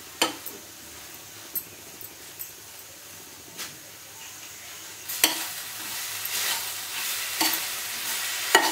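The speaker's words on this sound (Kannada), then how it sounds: "ಈ ತುಪ್ಪದಲ್ಲೇ ಇನ್ನೊಂದು 5-6 ನಿಮಿಷ ಫ್ರೈ ಮಾಡ್ಕೊಳ್ಳೋಣ ಚೆನ್ನಾಗಿ" Kashi halwa frying in ghee in a pan, a low sizzle punctuated by repeated scraping stir strokes that grow louder and more frequent toward the end.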